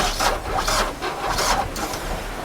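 A boat's engine cranks slowly on a strong 13.2-volt battery without catching, giving a continuous, moderately loud mechanical churn with a low hum and rhythmic surges.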